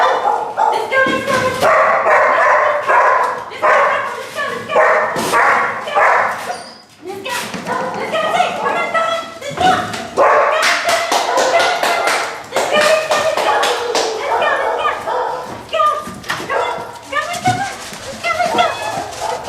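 Dogs bark repeatedly in loud, close bursts, with some yips and whimpers, while people talk and call encouragement over them.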